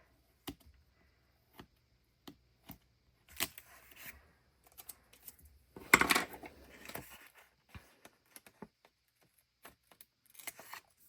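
Scissors trim paper for a scrapbook-style Dutch door spread. Soft, separate snips and clicks come at irregular intervals in a quiet room, with one louder rustle of paper in the middle.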